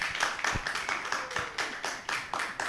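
An audience at a conference event gives a round of applause, a fairly faint, steady patter of many hands clapping.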